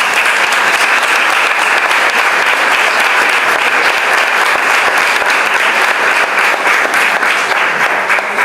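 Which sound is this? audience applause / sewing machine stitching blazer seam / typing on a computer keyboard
audience applause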